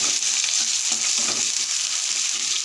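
Continuous hissing sizzle of onions frying in a wok, close and steady throughout, with faint scraping of stirring underneath.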